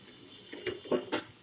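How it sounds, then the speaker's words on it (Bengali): Water poured into a cooking pan of tomato mustard hilsa fish curry, three short splashing gushes in quick succession, close and moderately loud. "এবার আমি এর মধ্যে আমার স্বাদ মতন আমি জল অ্যাড করে দিলাম"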